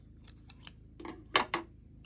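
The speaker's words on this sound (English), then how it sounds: "Now what I'm going to do is I'm going to cut a longish tail." Scissors snip through a crochet yarn tail, a few light clicks followed by two louder, crisp cuts close to the microphone, with no voices.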